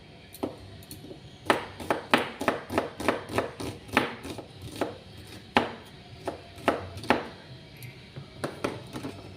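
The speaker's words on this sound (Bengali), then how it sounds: "বুঝতেই পাচ্ছেন চপা দিয়ে কাটছিলাম।" Onion being chopped with a vegetable chopper while making a Bengali drumstick and potato curry: a run of sharp, quick chopping knocks in irregular bursts, close and fairly loud, with no talking.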